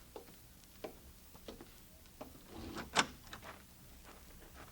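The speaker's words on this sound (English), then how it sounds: "All right, Bob, open the door for him." A wooden shack door opens in an 1876 Minnesota radio drama, with a few soft knocks and clicks leading to a sharp latch-and-creak accent near the three-second mark, fairly close and otherwise quiet.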